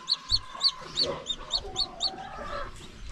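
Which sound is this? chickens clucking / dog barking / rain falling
chickens clucking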